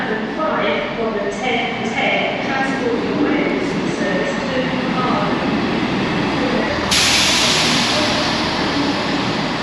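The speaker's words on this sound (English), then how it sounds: "Here's my wee train, and it's only got 2 carriages" A small two-carriage train at a station gives a steady rumble, with a bright hiss of brakes or doors near the end.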